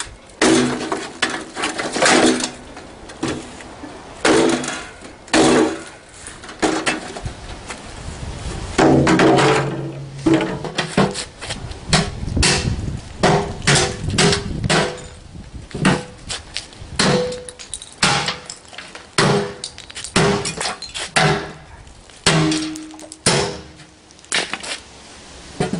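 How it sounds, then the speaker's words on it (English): Scrap metal being stripped apart with a multi-tool, giving a steady run of loud, close crunching, banging and clattering hits, with brief bursts of heavier impacts and rattling metal throughout. "Get the multi-tool out. Let's strip this bastard."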